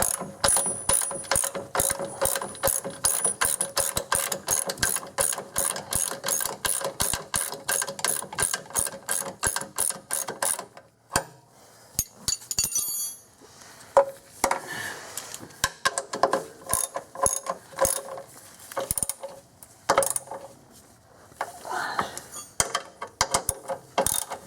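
A ratchet wrench tightening the running board bolts on a 2001 Infiniti QX4, first a long run of fast, regular clicks up close, then shorter uneven bursts of clicking and clanks after a brief pause.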